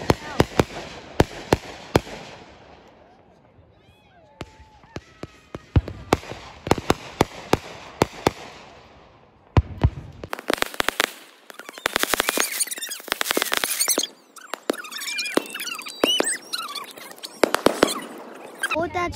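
Fourth of July fireworks pop and crackle in sharp bursts, a few isolated bangs first and then dense rapid crackling volleys, with people talking nearby.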